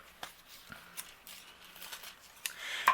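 Scissors snip through a piece of rose gold foil in a few sparse, faint cuts spaced out over a quiet background, with a louder rustle of the foil at the end.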